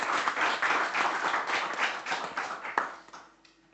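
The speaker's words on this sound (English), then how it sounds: "s'il vous plaît, applaudir nos sponsors puisqu'ils le méritent" Keynote audience at an opening session applauds the sponsors with a burst of many hands clapping that swells early, pulses unevenly, then fades out over the last second, leaving near quiet.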